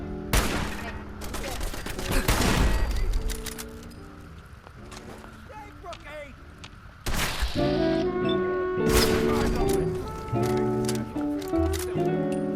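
Gunfire in the video game Fallout 4, loud bursts of rapid shots and heavy impacts mixed with game music and effects, fading between volleys and returning in dense clusters.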